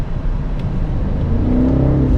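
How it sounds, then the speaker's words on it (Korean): BMW X5 M60i surging forward under acceleration in sport mode, its exhaust a steady, loud low rumble that rises in pitch as the engine revs climb. "확실히 배기음도 많이 달라지네요"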